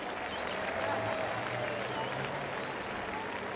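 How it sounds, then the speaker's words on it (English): Distant crowd applause and cheering at a Formula Drift event, a steady wash of clapping at low level, with faint voices mixed in. "Round of applause for Matt Field. Make some noise for Matt Field."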